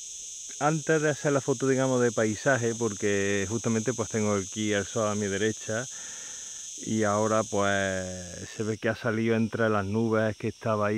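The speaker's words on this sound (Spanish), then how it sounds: "¿Cómo se oye la chicharra cantar, no?" A cicada sings outdoors in a continuous high, shrill drone beneath someone speaking Spanish, steady for most of the stretch before cutting out near the end.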